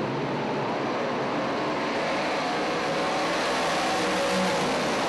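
358 Modified race cars race around the Big Diamond Raceway dirt oval, their engines blending into a loud, continuous roar that holds steady without breaks or talk.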